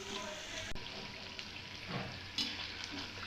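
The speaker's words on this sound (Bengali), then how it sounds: "তো আমি আলুর পকোড়াটাকে খুব সুন্দরভাবে ভেজে নেব" Potato pakoras deep-fry in oil over a medium flame, a steady soft bubbling sizzle throughout with a few faint clicks and stirring touches.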